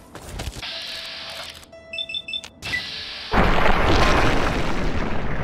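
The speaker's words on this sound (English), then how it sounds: "Oh, and he threw a grenade." In Fallout 3, a grenade thrown by a super mutant goes off in a loud, sustained blast that swells suddenly after a few seconds of clicks, beeps and scuffling game sounds.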